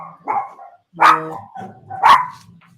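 Dogs bark in three sharp, loud bursts about a second apart, close by, the second and third the strongest, with short quiet gaps between and no talking.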